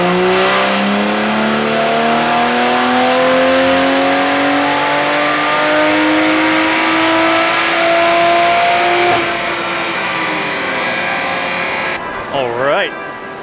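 Tuned car on a chassis dyno running an E50 ethanol blend, engine revving loudly and continuously as pitch climbs through the gears for about nine seconds, then dropping off, with a voice briefly heard near the end.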